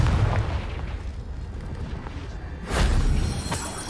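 Confringo fire spell explosions in the Hogwarts Legacy video game, a muffled blast early on and a louder, sharper burst near the end over a steady low rumble of game ambience.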